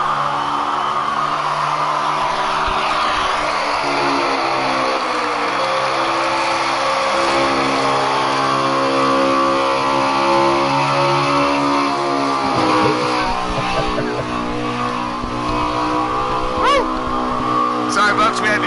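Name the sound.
race car engine revving at Dover in a racing video game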